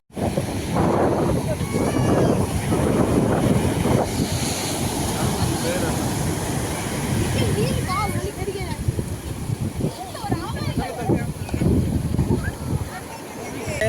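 Sea waves surge and break at Koduru beach while gusty wind buffets the microphone, a loud continuous wash of surf throughout, with faint voices in the background.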